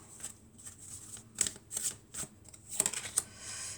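Tarot cards being shuffled in quick riffling bursts, close and crisp, with short pauses between flurries and no talk.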